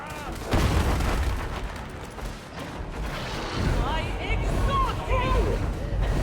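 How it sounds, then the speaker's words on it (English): A grenade goes off in Warhammer 40,000: Darktide with a loud boom, followed by a rumbling din of combat while voices talk over it. "Throwing a grenade down."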